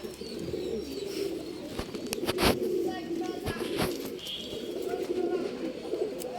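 Pigeons, pairs kept for sale, coo repeatedly at close range with soft flutters and chirps, over a steady low murmur of background noise.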